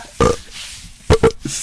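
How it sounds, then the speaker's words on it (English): Burping audio played in Roblox: three loud, close, guttural belches, one short then a double burp about a second later, followed by a smaller grunt. "Let's play the burping audio."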